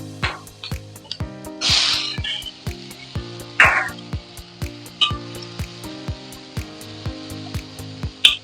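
Onion and tomatoes frying in a pan on a medium flame, with short hissing sizzle bursts over a steady rhythmic music backing and no talking.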